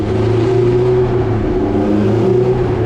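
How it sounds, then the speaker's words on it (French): Classic racing cars, Porsche 911s among them, circuit on the neighbouring track, sending a steady revving engine roar with tonal whine that shifts pitch as they pass at moderate distance. "Et là, ce que vous entendez, c'est les classiques d'à côté."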